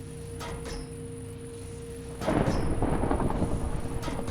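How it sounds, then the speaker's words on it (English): Thunderstorm in the video game Seaopolis 2, with a steady ambient hum and tones giving way to a loud, sustained rumble of thunder and rain that swells and holds to the end. "Gonna go sleep through this storm because I don't like the lightning in my ear."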